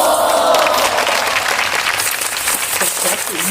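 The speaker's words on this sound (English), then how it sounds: "a round of applause for the chapatis." Applause after freshly made, hot, layered chapatis in a home cooking setting; a dense, steady wash of clapping runs for the whole stretch with no talking over it.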